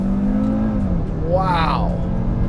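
A 2018 Audi RS3 with its five-cylinder engine launches hard on an empty rural road, a loud, steady engine note rising into a sweeping pitch climb as it accelerates, close to the microphone, with a voice speaking over it.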